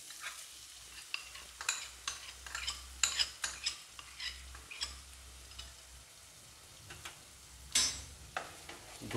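Katla fish simmering with spices and yogurt in a pan over low heat, stirred with a utensil: repeated close scraping and clinking strokes over a soft, steady sizzle, no voices.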